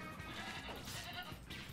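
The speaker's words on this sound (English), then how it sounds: "What does a goat sound like?" A synthesized goat bleat played back by a smart speaker's voice assistant, a short wavering cry lasting under two seconds, fairly faint with a little background noise.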